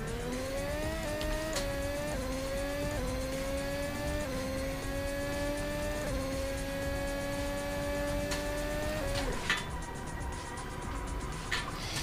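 A racing car in a video game runs a fast lap at Valencia, its engine whining steadily and climbing through the gears with short dips at each shift, loud and continuous with no voices.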